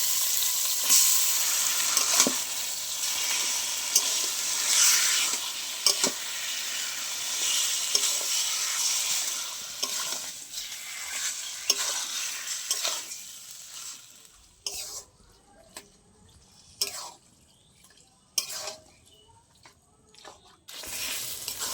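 Boiled taro greens sizzle and fry loudly in a pan with spices, a steady hiss broken by scraping stirs, then the frying quiets to sparse clinks and taps.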